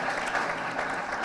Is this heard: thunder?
no